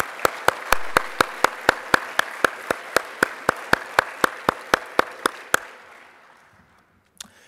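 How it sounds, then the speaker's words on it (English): A conference audience claps in a steady, evenly spaced beat of about twenty loud claps. The clapping stops abruptly, the room noise fades away, and one last isolated clap comes near the end. "Let's give them all a round of applause."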